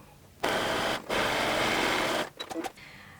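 Sewing machine stitching a satin-lined beanie near a pom-pom, two steady whirring runs of rapid stitching separated by a brief pause, then some handling clicks and rustles.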